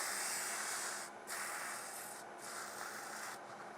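Sandpaper of 180 grit rubs against a wooden honey dipper spinning on a lathe, giving a loud, steady abrasive hiss that briefly dips three times as the paper lifts and shifts.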